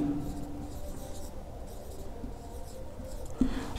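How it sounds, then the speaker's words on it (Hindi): A marker or chalk scrapes steadily across a board as a word is written in a classroom, faint against a constant background hum, with a small knock near the end. "यहाँ लिखेंगे बिरयानी।"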